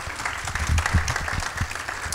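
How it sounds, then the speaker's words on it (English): Applause from an audience at a 2020 nonprofit awards ceremony, a steady patter of clapping hands lasting about two seconds at moderate, close volume with no talk over it. "Round of applause."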